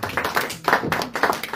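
A church congregation clapping in praise to the Lord during a sermon, several rhythmic bursts of hand claps at moderate loudness, close and uneven.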